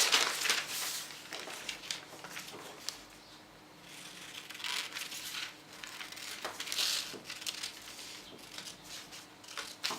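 Scissors cut through a paper dress pattern piece during a gaping-neckline fix, giving soft crinkling snips and rustles of paper close by, with quieter gaps between cuts.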